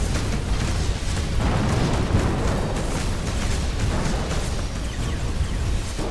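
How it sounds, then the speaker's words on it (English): A space station headquarters explodes in the Between The Stars space action game, a sustained, dense rumbling blast with crackling bursts that stays loud and continuous from start to finish. "Structural damage to the headquarters rising. Explosion imminent."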